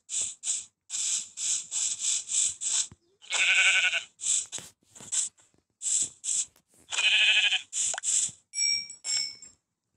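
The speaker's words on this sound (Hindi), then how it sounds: "अभी क्या बकरी है, बकरी का मेरे को मारना पड़ेगा।" Minecraft goat bleating in a string of short, bright cries, some quick and clipped, a few longer and wavering, loud and close with near silence between them.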